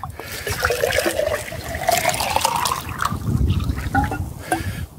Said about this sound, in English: What I'm going to do is measure how much water exactly I need to make one flask.